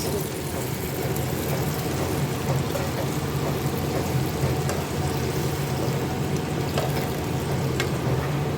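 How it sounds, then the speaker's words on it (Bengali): Continuous hissing, bubbling wash of water added to a pan of simmering malai chicken, steady and fairly loud close by, with no voices. "জল দিচ্ছি"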